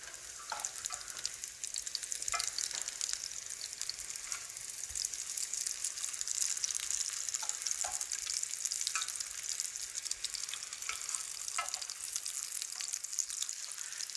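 Vegetable patties fry in a pan with a steady, bright sizzle of hot oil, with scattered pops and crackles breaking through the continuous hiss.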